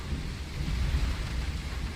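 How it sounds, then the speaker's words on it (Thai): Heavy rain pours steadily while low rumbling thunder rolls underneath, a dense continuous downpour close by with no voices. "ฝนมันเริ่มตกหนักแล้วครับ"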